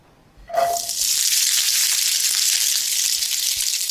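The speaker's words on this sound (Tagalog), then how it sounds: "Magpainit na tayo ng mantika." Cooking oil in a pan hisses into a steady, loud sizzle after a brief clink, then holds as a constant close frying hiss for several seconds.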